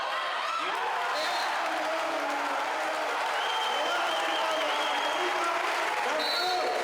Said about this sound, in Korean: 관중들의 열광 지수는 경기장 천장까지 다다르고 있다